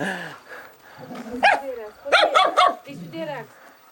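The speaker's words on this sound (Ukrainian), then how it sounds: "Зараз я прив'яжу пса." A dog barks in a village in the evening, several sharp barks mixed with people talking nearby.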